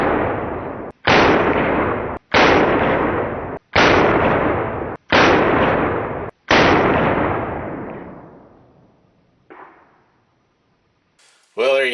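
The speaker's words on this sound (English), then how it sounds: "First shots out of the reproduction of Spiller and Burr from Pietta." Six loud, evenly spaced shots from a Pietta reproduction Spiller & Burr cap-and-ball revolver, each booming close up and ringing out briefly, the last decaying longest before a faint click and a short noise.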